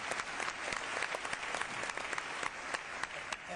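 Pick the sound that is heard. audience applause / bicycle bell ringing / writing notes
audience applause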